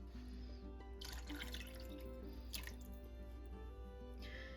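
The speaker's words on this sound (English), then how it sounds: "I'm also going to add 1 cup of water" A cup of water is poured into a pot holding chicken broth for a one-pot sausage and pasta meal, a steady trickling splash under a low constant hum, with brief brighter gushes at intervals.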